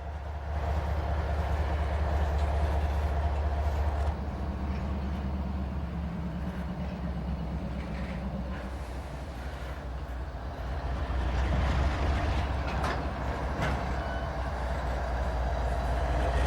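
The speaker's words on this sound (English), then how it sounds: "And it'll back up and get more rail cars." A train backs up to couple more rail cars, giving a low continuous rumble and grinding of wagons rolling slowly, with faint clanks and squeals of metal, heard from nearby at night.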